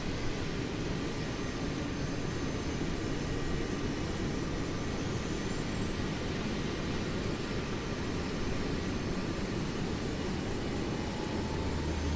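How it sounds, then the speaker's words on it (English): Jet engines of an Airbus A380 spool up inside a flight simulator game, heard from outside the aircraft as a continuous broad roar with a faint rising whine, steady and unbroken throughout. "We'll go outside for engine start."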